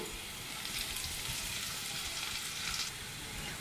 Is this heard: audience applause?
no